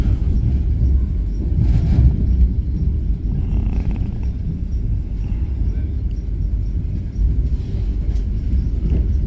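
The Vande Bharat Express, running from Hazrat Nizamuddin to Khajuraho, rumbles steadily as it pulls into Gwalior Junction. The low, continuous rolling drone carries faint clatter on top and has no clear voices.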